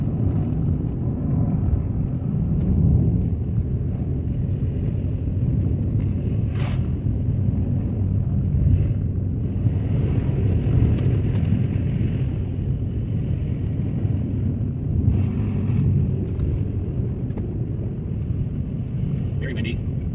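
Strong wind blows during a snowstorm while driving an unplowed road, a constant low roar and rumble mixed with engine and road noise, steady and loud throughout.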